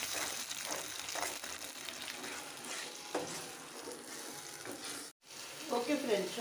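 Ginger garlic paste frying in hot oil in a pan for a restaurant-style curry: a steady, close crackling sizzle with bursts of spattering and a brief stir, with no talk over it.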